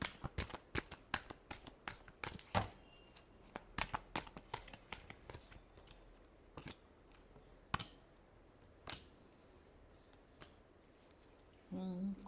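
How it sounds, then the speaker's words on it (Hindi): Tarot cards being shuffled at close range, a rapid run of crisp riffling clicks and snaps in bursts that thin out and then stop, with a brief handling sound at the end. "Last shuffle."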